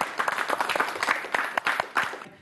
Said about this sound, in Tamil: கீர்த்தி ராமன் சாருக்கு ஒரு மிகப்பெரிய கைத்தட்டல்